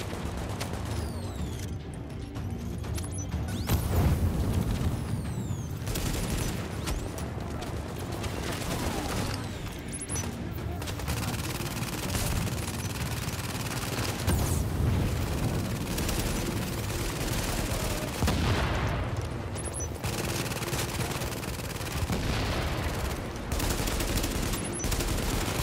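Automatic turret fire in the video game Tom Clancy's Heartland: dense, sustained bursts of gunfire with booms and mechanical clatter, loud and continuous throughout.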